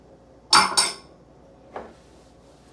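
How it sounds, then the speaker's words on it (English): Two sharp, bright clinks of a spoon striking a bowl while adding melted coconut oil for black bean brownies, followed by a fainter single tap after a pause, in an otherwise quiet kitchen. "And then we are going to add 3 tablespoons of coconut oil melted."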